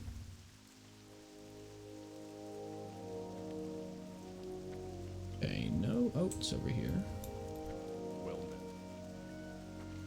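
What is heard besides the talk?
heavy rain in World of Warcraft Classic, video game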